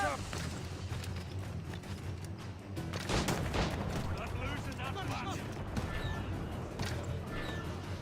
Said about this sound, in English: Is that a shit mortar?